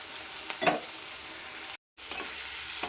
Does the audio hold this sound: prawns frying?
yes